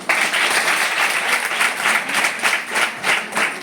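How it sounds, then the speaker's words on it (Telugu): A group of listeners at a talk breaks into applause on cue, a brisk burst of many hands clapping together in a close room, with slight rhythmic pulsing and loud, even energy for a few seconds. "క్లాప్"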